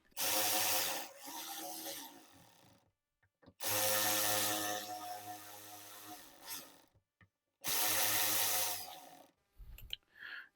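A hand ratchet tightens the fuel bowl on a 1999–2003 Ford 7.3L Powerstroke diesel during a fuel bowl rebuild, making three loud, close bursts of rasping clicks separated by short silences.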